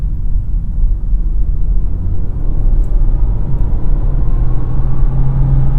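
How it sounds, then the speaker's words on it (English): A 2021 Volkswagen Jetta engine pulls up to highway speed, a steady low drone and rumble with road noise that builds gently and continuously, sounding unstrained, with no talk. "I like that this engine never sounds taxed or like it's straining."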